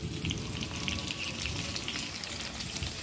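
Mutton varuval cooking with onion and tomato in a pan, a dense continuous crackling sizzle, close and fairly quiet, with no voices.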